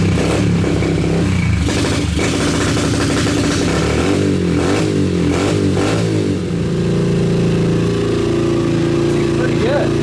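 A KTM 250EXC-F dirt bike engine starts up and runs, revving unevenly with clattering bursts before settling into a steady idle, loud and close, with talk mixed in.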